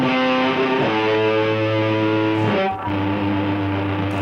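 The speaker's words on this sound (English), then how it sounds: "If a song were to end with a guitar solo, it might sound like this." A distorted electric guitar solo plays loud, sustained notes with a brief break partway through, then holds a final distorted tone with amp noise.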